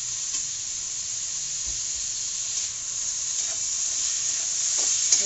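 Onion, tomato and curry leaves sizzle steadily while being sautéed for a dry spicy arbi (taro root) curry, a constant close frying hiss with a few faint stirring knocks and no voices.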